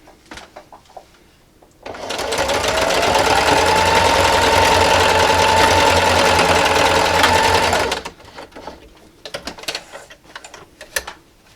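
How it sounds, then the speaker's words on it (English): A sewing machine backstitches back and forth across a wine gift bag seam, a loud continuous whirring run of about six seconds, with softer handling clicks and taps of fabric before and after. "my needle is right where the seam is, and I'm just going to go back and forth about a 1/4 inch"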